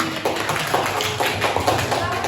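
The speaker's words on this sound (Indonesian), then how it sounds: "Tepuk tangan buat Rifki." Students in a multigrade classroom applaud a classmate, a brisk burst of many hands clapping in quick, uneven rhythm, fairly close, with some talking mixed in.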